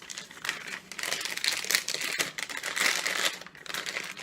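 A plastic piping bag crinkles and rustles, close and fairly steady, with irregular crisp crackles running throughout.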